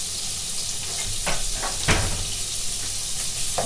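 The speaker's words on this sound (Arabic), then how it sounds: "رايحة نقلي كلش مع بعضه شويه برك" Ingredients sizzle together in a pan while making savoury puff-pastry mini tartlets, a steady close frying hiss with a few brief stirring scrapes and no talk.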